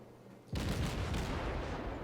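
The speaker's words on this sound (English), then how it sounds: "Still firing away at the Gremiashki." Warship guns in a naval video game firing at the destroyer Gremiashchy, a sudden loud boom followed by a sustained roaring rumble of the salvo that fills the rest of the clip.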